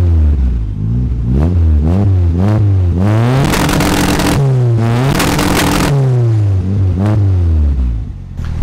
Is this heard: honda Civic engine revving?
yes